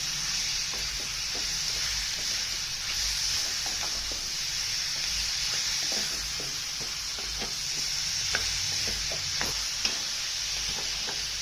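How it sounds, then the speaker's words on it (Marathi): Prawns cook in an onion-garlic paste in a pan, giving a steady, close sizzle that runs the whole time, with scattered light clicks and scrapes from stirring and no talking. "कांदा लसण्याच्या वाटणामध्ये चांगली कोळंबी चांगली शिजून घ्यायची"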